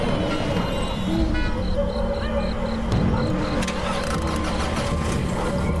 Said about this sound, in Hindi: गाड़ी अब चल पड़ती है।